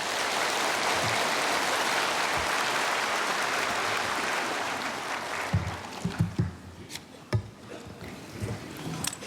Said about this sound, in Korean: 나오실 때 따뜻한 박수로 환영하겠습니다